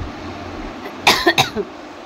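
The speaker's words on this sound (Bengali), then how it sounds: "আমার কাশিটাই যাচ্ছে না" A short burst of three or four close, raspy coughs from a persistent cough in quick succession, breaking a quiet room background.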